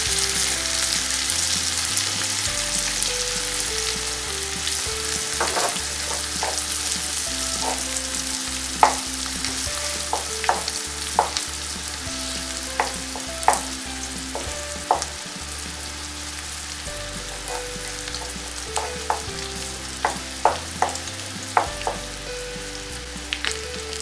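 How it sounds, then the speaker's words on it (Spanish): Onion and garlic fry with potatoes in butter, a steady close sizzle with occasional stirring knocks and quiet music in the background. "Y aquí dejamos la cebolla que se acitrone un poco"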